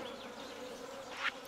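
Daytime flies buzz in the video game Stardew Valley, a faint, continuous insect hum with a brief louder swell near the end and no talking.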